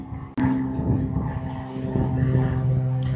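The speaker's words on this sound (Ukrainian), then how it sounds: "Ну, це не паром, це катер" A motorboat passes by on the water in Huntsville, Ontario, its engine a steady droning hum close by that holds and slowly shifts in pitch, with a sharp knock near the start and no talking.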